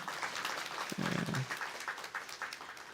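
A church congregation at a Sunday morning worship service applauds in welcome, a dense, steady wash of clapping that swells briefly in the middle and holds throughout, with faint voices underneath.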